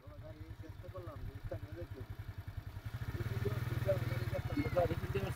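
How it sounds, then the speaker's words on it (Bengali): A motorcycle engine fails to start twice on a roadside, sputtering and clattering in a steady low chug that grows louder partway through, with no clean catch. "তারপরে মুরব্বী দুইবার স্টার্ট দেওয়ার চেষ্টা করলো, কিন্তু স্টার্ট নিল না"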